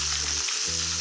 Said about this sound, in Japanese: 強火にしてここでお肉投入です